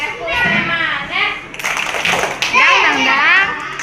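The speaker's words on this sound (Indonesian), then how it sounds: "tepuk semangat" Children in a classroom clap a spirited rhythmic pattern, with sharp bursts of hand claps mixed with excited chanting and shouting voices.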